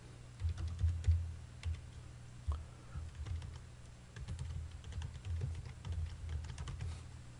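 Someone types quietly on a computer keyboard, a close, soft, irregular patter of key taps in short bursts with brief pauses between them.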